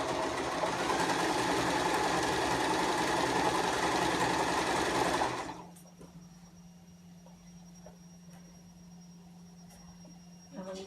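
A sewing machine runs steadily stitching a seam on a girl's dress, a loud continuous mechanical whir for about five seconds before stopping abruptly, leaving a low hum and a few faint clicks.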